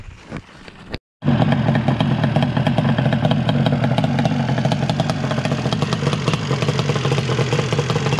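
A Yamaha Banshee 521cc dragster engine warms up near at hand, a loud, steady, rattly two-stroke idle that starts abruptly after a brief silence and drones on without pause.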